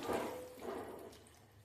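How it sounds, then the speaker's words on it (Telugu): Water goes into a curry pan of green peas, potato and carrot with tomato and chili powder. A short, soft splashing pour lasts under two seconds, fairly quiet and with no voices. "సరిపోను నీళ్ళు పోసుకుందాం"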